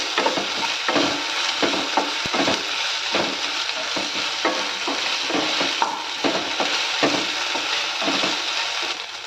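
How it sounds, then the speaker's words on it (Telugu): A tablespoon of ginger paste fries in a pan, a steady loud sizzle broken by repeated scraping stirs in an uneven rhythm, with no voices. "ఈ అల్లం పేస్ట్ పచ్చి వాసన పోయేదాకా మనం ఈ విధంగా బాగా ఫ్రై చేసుకోవాలి"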